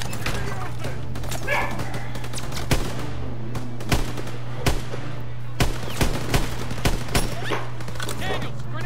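Sharp gunshots and rifle bursts go off in the video game Call of Duty WW2 in a factory battle, crackling irregularly over a constant hum, with shouting voices mixed in.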